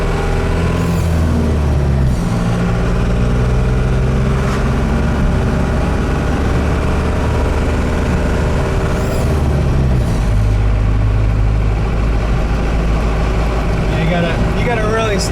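A Bullnose Ford F150 with a lifted rear suspension and new coil springs and caster bushings cruises down a road, its engine drone and road rumble loud and continuous, with a voice talking over it throughout.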